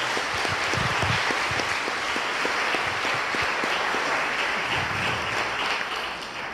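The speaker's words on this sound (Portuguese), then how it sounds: "Você pode aplaudir ao Senhor?" A church congregation applauds loudly and steadily throughout, a dense wash of clapping that stays constant and fades slightly at the end.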